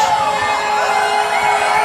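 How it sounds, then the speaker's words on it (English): A wrestling arena crowd roars at a retirement match, a sustained wall of cheering and whooping that stays loud and steady throughout with no break. "This crowd is going absolutely insane right now."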